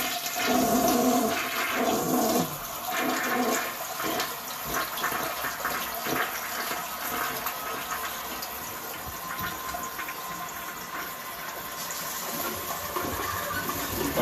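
An old toilet in a condo bathroom awaiting renovation flushes, a loud rushing gush that settles into a long steady hiss of water refilling the tank, heard alone.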